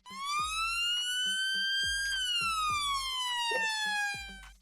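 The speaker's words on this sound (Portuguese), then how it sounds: "Assim como no Yelp, a sirene alterna entre as notas graves e agudas. No entanto, elas são mais lentas" A police siren in wail mode sweeps slowly up and then down in pitch, loud and continuous, with a rhythmic engine-like thump beneath it.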